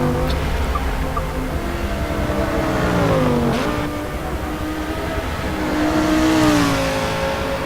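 Race cars, including Audi and VW entries, driving past on a track, engines droning loud and close with rising and falling pitch as they accelerate and pass, two swells of revving across several seconds.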